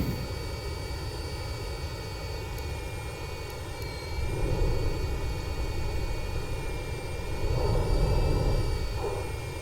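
A video game aircraft engine drones steadily through a landing with a sustained tonal whine and low rumble, swelling slightly louder twice near the end as throttle shifts.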